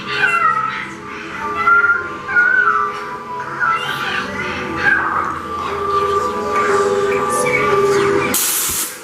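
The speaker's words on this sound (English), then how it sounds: "Oh, there's an air sprayer spraying on my head." An air sprayer effect in a haunted attraction at Rusutsu Amusement Park gives a sudden short hiss of air near the end, after a stretch of eerie droning and meow-like effect sounds.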